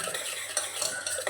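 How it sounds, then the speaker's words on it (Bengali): Batter is stirred with water in a mixing bowl for a peanut snack, a quick burst of close, wet sloshing and scraping strokes in an uneven rhythm with no talking. "ভালো করে মিশিয়ে নেব।"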